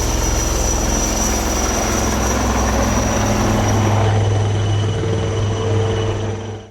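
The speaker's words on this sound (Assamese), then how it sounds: "অত্যাধুনিক হেলিকপ্টাৰ।" A modern military helicopter at the emergency landing strip on the new national highway at Moran, Assam, gives a steady, loud rotor and engine drone that holds throughout, then fades slightly at the end.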